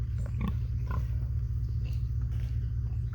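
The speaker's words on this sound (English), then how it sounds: "What are you doing, Mr. Pig?" Pig on a small regenerative farm grunting close by, low rumbling grunts over steady farm background noise, with a few short, sharper snorts.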